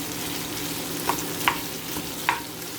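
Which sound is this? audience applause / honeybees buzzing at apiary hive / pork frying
pork frying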